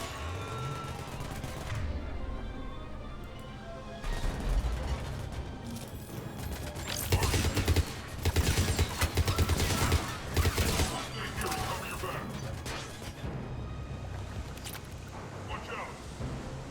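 Gunfire in a Mass Effect 3 firefight, with repeated bursts and volleys of shots across the scene, loudest in the middle stretch, mixed with game music and voices talking throughout.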